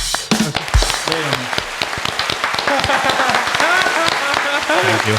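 A small group claps in a short, uneven burst of close hand claps with scattered taps, while voices chatter over it.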